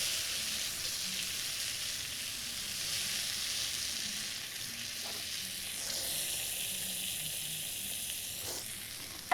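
Steak sizzles steadily in a frying pan, a constant close hiss and crackle with faint occasional scrapes.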